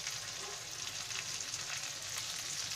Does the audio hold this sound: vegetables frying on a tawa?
yes